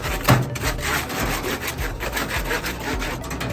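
Aluminum foil rubs back and forth across the grates of a Traeger Ironwood XL pellet grill in quick, repeated scraping strokes with a steady rhythm, close up and fairly loud.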